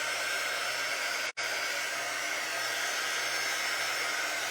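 A dryer blows steadily onto wet Mod Podge on a tissue paper craft project, a loud, close, continuous whir that cuts out for a moment and then resumes.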